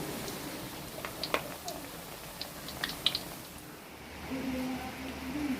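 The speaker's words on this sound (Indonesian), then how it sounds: "di sini lagi hujan lur" Light rain patters outdoors in a steady soft wash, with scattered drips and taps over it and a faint low hum joining near the end.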